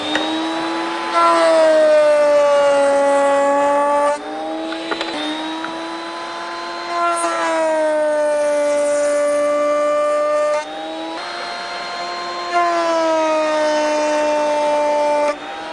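A router cutting wood along a fence throws off a loud, close, high-pitched motor whine with strong tonal overtones. The whine shifts pitch in several stretches as the bit bites in and eases off across the board.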